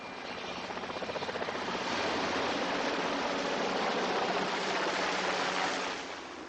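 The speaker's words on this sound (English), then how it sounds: "The Queen's Flight helicopters, like the Royal Train, are reserved for getting to official events." A Queen's Flight helicopter flies overhead, its steady roaring rotor noise carrying faint rhythmic blade thumps that swell and hold loud before easing off at the end.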